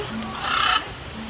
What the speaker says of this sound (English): As soon as we come in, the parrots are already here to greet us.